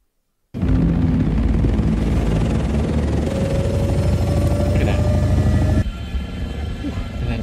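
A dragonfly ornithopter from the film Dune flies with a loud, continuous, dense thrumming roar that starts abruptly and holds steady, then eases to a lower level near the end.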